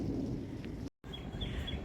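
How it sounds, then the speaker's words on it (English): Rain begins falling in a backyard garden in a spring storm, a steady rushing hiss with a deep rumble of thunder, broken by a brief dropout, with a faint bird call later. "Hey Lily, I know the rain's starting to come down."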